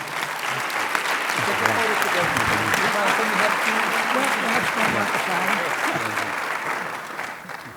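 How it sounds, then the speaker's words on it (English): Sustained applause from a large dinner audience honouring Brian Moynihan at a World Citizen Award event, steady and dense throughout with some crowd voices mixed in, tapering slightly at the end. "let's give a big round of applause to Brian"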